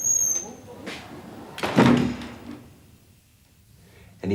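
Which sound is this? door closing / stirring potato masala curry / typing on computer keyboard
door closing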